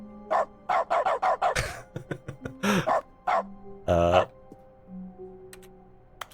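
A cartoonish dog in the video game The Stanley Parable barks in a rapid series of sharp yaps, close and loud, followed by a few scattered barks and clicks.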